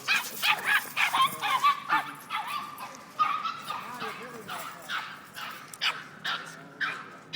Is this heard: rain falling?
no